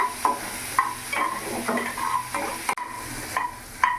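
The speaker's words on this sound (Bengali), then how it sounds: "কিছুক্ষণ আমি নাড়াচাড়া করে ভেজে নেবো পেঁয়াজটা" Onions being stirred and fried in a pan, a soft sizzle under repeated close scrapes and taps of a spoon against the pan at an uneven rhythm.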